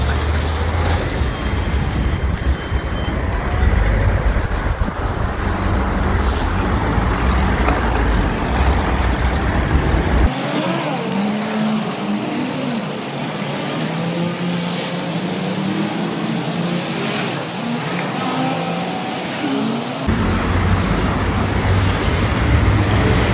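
Street traffic passes a pedestrian crossing in a Moldovan town, with a steady roar of cars and heavier trucks or buses rolling by close and loud, continuous throughout and with no voices.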